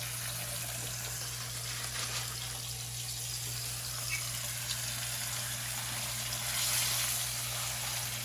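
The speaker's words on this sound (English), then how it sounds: "I'm going to wash my hands because I have pork on my hands." Running tap water splashes steadily into a kitchen sink while hands are washed, a continuous close rush that swells briefly near the end, under a faint pan sizzle and hum.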